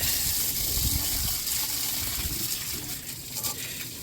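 Water spraying mud out of the catalytic converter under a 1991 Dodge Caravan abandoned for years, a steady rushing gush with splashing bursts, close and fairly loud.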